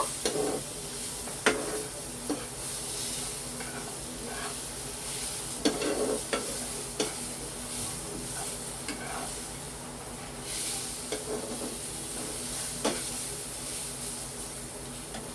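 Ingredients for shrimp muitha stirred in a hot pan, a continuous close sizzle punctuated by repeated sharp scrapes and taps of the spoon against the pan at irregular intervals.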